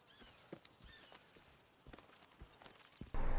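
A horse's hooves clip-clop at a steady walk in Red Dead Redemption 2, a quiet, evenly spaced series of soft thuds, ending in a sudden loud burst of noise.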